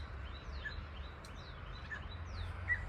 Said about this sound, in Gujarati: ક્યાં ચકલી ને ઓલે બુલબુલ બોલે આ બાજુ